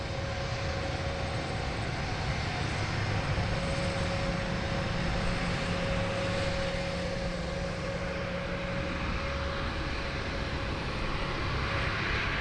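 Airliners departing runway 16 Left at Sydney Airport: a continuous, distant jet roar with a faint steady whine, holding level for the whole stretch.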